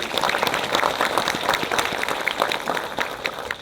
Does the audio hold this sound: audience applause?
yes